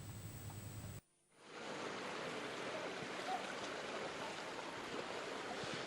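The flooded Kondaveeti stream in Guntur district runs after days of heavy rain, giving a loud, continuous broadband rush of flowing water that swells in after a brief drop near the start.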